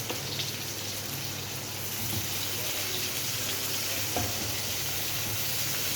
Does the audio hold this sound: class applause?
no